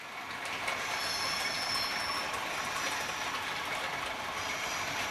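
An industrial train runs along the track of a model railway, a faint, steady whirring and clicking of small wheels and motor with a thin high squeal, continuous and unbroken throughout.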